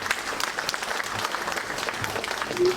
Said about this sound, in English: Please, I want you all to give yourself a resounding round of applause for this one.